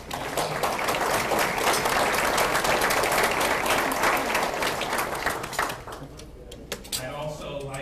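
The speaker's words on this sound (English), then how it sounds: "so we'll give a round of applause for them" A civic audience at a city's State of the City address claps steadily in a dense, full round of applause for the sponsors, fading out near the end as a voice resumes.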